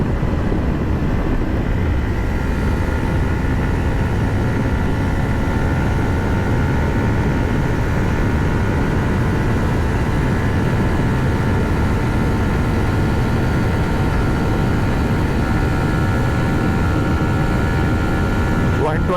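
A Yamaha MT-15 V2.0 motorcycle at top speed in its last gear, with a loud, steady engine drone and heavy wind roar that hold unbroken throughout.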